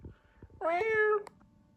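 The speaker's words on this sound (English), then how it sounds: "Little kitty on the couch" A cat gives a single clear, close meow of about half a second, rising then falling, with faint soft shuffling before it and quiet after.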